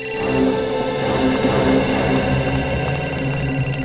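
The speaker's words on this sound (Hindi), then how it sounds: "निखिल सर, सिद्धार्थ का फोन" A steady electronic ringtone tone pulses continuously over a dense hum, with no voices, sounding close and fairly loud throughout.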